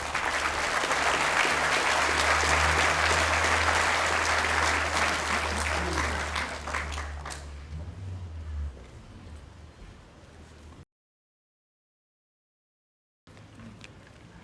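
Crowd at a Brisbane solidarity-with-Israel gathering clapping to welcome Lord Mayor Adrian Schrinner, loud sustained applause with a low rumble that gradually fades, a silent gap, then faint sound resumes.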